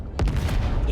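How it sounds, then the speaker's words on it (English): Fireworks burst in the space game Star Citizen: a rapid, loud cluster of crackling explosions and booms packed into about a second, dense and close. "Set off some more fireworks for the viewers."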